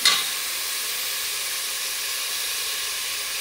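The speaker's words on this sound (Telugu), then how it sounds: "ఇది అల్లం, వెల్లుల్లి, ఉల్లిపాయ కదండి, అందుకోసం కొంచెం వేపాలి" Ginger garlic paste and onion frying in a pan for upma, giving a steady, close sizzle with a sharp hiss at the start and no talking.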